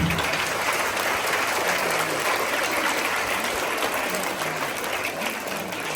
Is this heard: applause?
yes